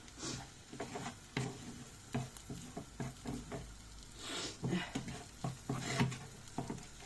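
A bulgur pilaf mixture with chili flakes being sautéed in a pan, with soft stirring scrapes and a faint sizzle in irregular strokes, close and quiet.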